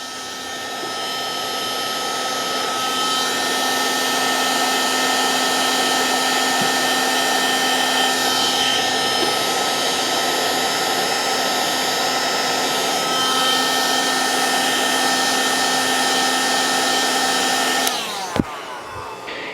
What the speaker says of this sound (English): Now, this heat gun, it works.